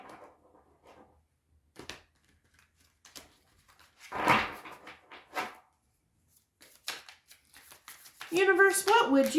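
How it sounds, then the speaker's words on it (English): Tarot cards are shuffled in quick riffling bursts and soft slaps, close and intermittent, while a person talks over them. "Go ahead and shuffle these cards up."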